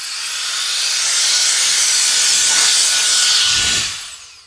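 An APF-01 turbo fan blasts air across a silicone mat to clear baking soda, a loud, steady roaring hiss that holds for several seconds and then winds down, with no voices.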